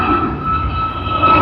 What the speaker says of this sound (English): A350-1000 of Etihad Airways